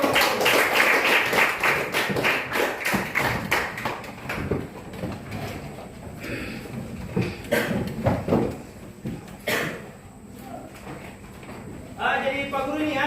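A classroom group claps in brisk, uneven bursts at first, the clapping thinning out as a teacher talks over it and the room settles.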